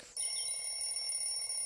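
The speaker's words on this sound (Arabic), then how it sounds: "كأني أسمع صوت منبه." An electronic alarm clock in an Arabic children's cartoon rings with a steady, high-pitched beeping tone that starts abruptly and continues loudly throughout.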